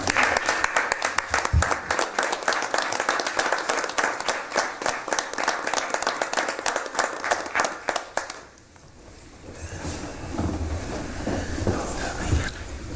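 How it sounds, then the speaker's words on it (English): Applause at a city council meeting in Greenwood honoring Chief Bryan: dense clapping from a room of people for about eight seconds, then fading into quieter room murmur with scattered sounds. "give Chief Bryan and everybody else a round of applause"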